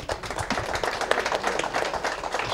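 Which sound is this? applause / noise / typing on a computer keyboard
applause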